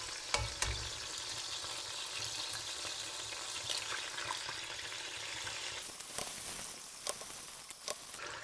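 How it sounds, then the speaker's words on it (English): Eggs cracked into a pan crackle and sizzle beside pieces of chicken for chicken fried rice, cooking over a low flame, with a steady hiss broken by sharp clicks and taps of a utensil against the pan. "I'm going to break open 4 eggs on this side."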